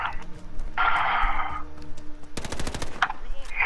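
MP5 submachine gun fire in Modern Warfare gunfight gameplay: a rapid, loud automatic burst of about ten evenly spaced shots, close up, with other game sounds before it.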